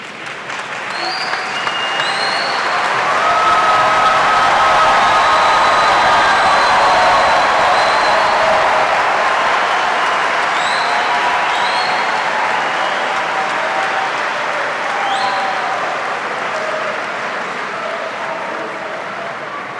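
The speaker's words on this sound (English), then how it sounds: "Let's have one more big round of applause for our master's degree students." Sustained applause from a university commencement audience, swelling to a full steady roar of clapping and slowly easing off, with a few faint whoops over the top.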